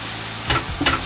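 Chilli powder, ground cumin, ground coriander and garlic sizzle in a hot pan for chilli con carne, with a spoon scraping through twice in a short close burst over a steady frying hiss.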